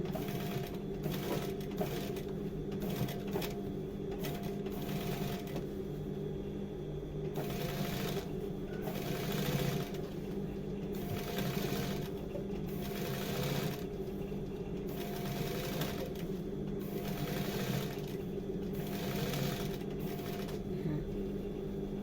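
Sewing machine with ordinary thread stitching slowly around the hem of a pair of jeans, a steady mechanical whir of rapid needle strokes with short pauses and restarts, close and continuous.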